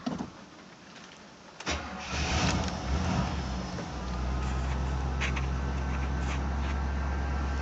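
A 1973 Pontiac Catalina cranks on a cold start: a brief rough starter whir, then the engine catches and settles into a loud, steady low idle rumble, recorded close with no talking.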